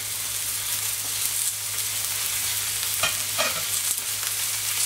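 Seasoned meat cooks on a hot plancha, giving a continuous dense sizzle at close range, with a short stretch of scraping and spattering near the end.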